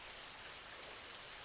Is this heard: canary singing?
no